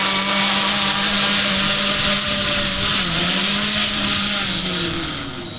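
A drone returns and hovers nearby, its steady motor whine loud and continuous with slight pitch wavers, easing off a little at the end; no one speaks.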